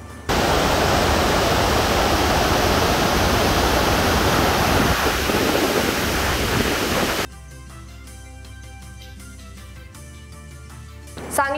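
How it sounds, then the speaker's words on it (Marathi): Water released through the gates of the Vaitarna dam rushes as a loud, dense roar for about seven seconds, then cuts to a much quieter passage. "आज धरणाच्या दरवाज्यातून 3370 क्युसेक पाणी सोडण्यात आले"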